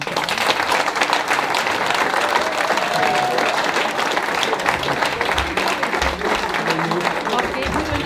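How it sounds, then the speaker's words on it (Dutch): An audience at a royal honours ceremony breaks into steady, loud applause that continues throughout, with a few voices mixed in under the clapping. "Daarom jullie applaus."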